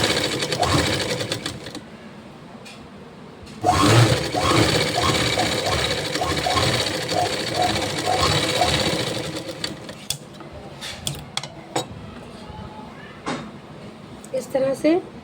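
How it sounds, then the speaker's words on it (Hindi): A sewing machine runs in stitching bursts along a seam on a pair of trousers, the motor whirring loudly and close with brief pauses between runs while someone talks over it. "इसी सिलाई के ऊपर ही हम सिलाई लगाएंगे।"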